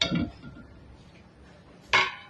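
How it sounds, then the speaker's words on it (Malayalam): A clay cooking pan is set down on the stove while making Ettathala kaya curry, two short, hard clinks roughly two seconds apart, close and clear against a quiet kitchen. "അത് കഴിഞ്ഞിട്ട് ചട്ടി വെക്കുക."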